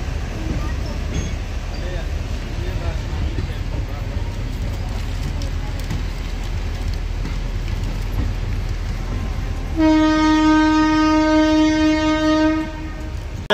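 A Sadbhavana Express passenger train running past Shahganj station, with steady rumbling wheel and carriage noise throughout and a loud, sustained horn blast sounding near the end.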